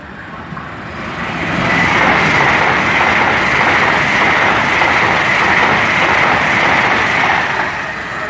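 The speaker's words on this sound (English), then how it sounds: "Passing through on platform 1 is a Great Western Railway service" A Great Western Railway train runs through a station platform at Tilehurst, its roar swelling to a sustained, loud rumble with rhythmic wheel clatter and then easing slightly at the end, with no voices.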